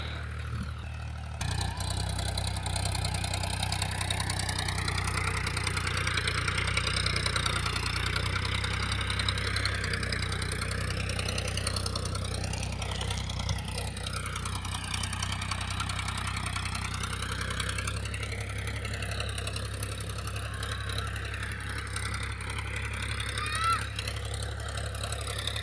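A tractor engine idles steadily throughout, a low continuous rumble with a faint knocking texture, moderately distant and unchanging in pace.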